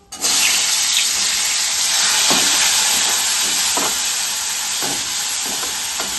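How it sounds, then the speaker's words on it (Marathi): Tomatoes frying in a kadai, a loud, constant hiss of sizzling close by, broken every second or so by a brief scrape of stirring. "आता टोमॅटो टाकते परतायला"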